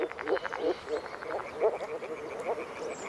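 Moor frogs call at spawning time in flooded riverside forest along the Danube, giving a chorus of soft, hollow, bubbling croaks that repeat in quick pulses, close and fairly loud.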